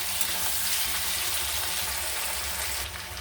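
Meat cooking with papaya and potato in a pan for a chicken curry, a dense continuous hiss of frying that drops slightly near the end, close and steady with no voices.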